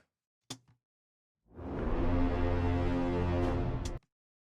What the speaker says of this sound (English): I wanted a song that starts with a foghorn.